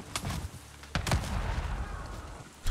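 Several sharp blasts from a grenade and gunfire in the video game Avatar Frontiers of Pandora are heard close together, with a heavy thump near the middle and rumbling debris between the hits.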